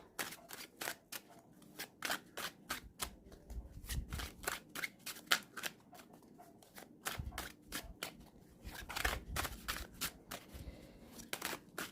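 Oracle cards are shuffled by hand in a run of quick, crisp riffling clicks and soft slaps, repeating in irregular bursts at close range, fairly quiet with no talking over them.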